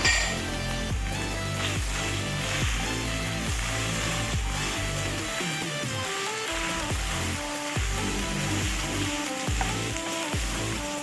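Finely chopped capsicum, cabbage and cauliflower sizzle loudly and steadily in a hot pan for fried rice and chicken Manchurian, with occasional stirring and utensil clinks, close up and alone.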